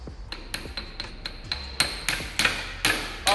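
Gentle hammer taps on a tool while servicing a Volkswagen worm-and-sector mechanical steering box, roughly a dozen light metallic strikes at an uneven rhythm, growing slightly louder toward the end, close up with no talk.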